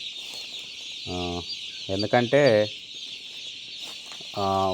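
Baby chicks peep continuously in a shed, a thin high chorus running throughout, broken by a few louder, lower bursts of clucking or voice close by.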